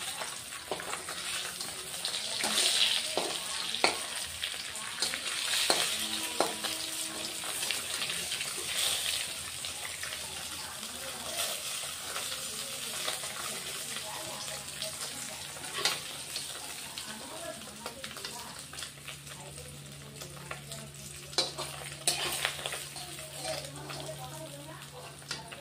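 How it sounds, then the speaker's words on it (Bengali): Pieces of rohu fish frying in a pan for a cauliflower-potato curry, a steady sizzle and crackle running throughout with occasional utensil clinks and a brief low hum near the end. "বন্ধুরা বাকি মাছ আমি ভেজে নিলাম"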